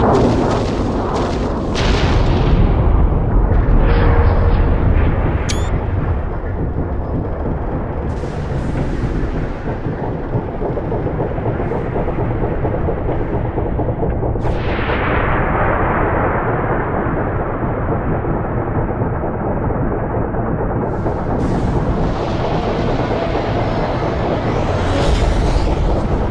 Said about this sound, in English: All ships, fire at will.